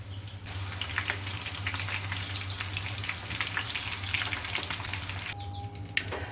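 The last few chicken pieces fry in oil in a pan, a steady close crackle and sizzle with a low hum underneath, with no talk.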